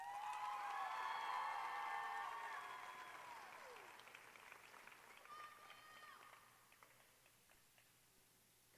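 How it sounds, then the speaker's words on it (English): Applause for honored leaders at a state FFA convention session, moderate clapping that tapers off over several seconds while a voice speaks over it near the start. "let's give each of these outstanding leaders a round of applause"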